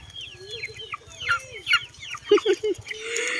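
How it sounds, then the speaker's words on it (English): Hens cluck and murmur close by in short repeated bursts while eating kangkong leaves at a chicken coop, with soft pecking and rustling underneath. "The hen is enjoying eating that one"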